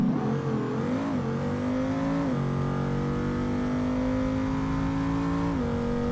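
Bruckell Bastion in BeamNG with its exhaust pipes removed, the engine holding a loud, steady high-revving drone with slight pitch dips and rises, close and continuous with no talking.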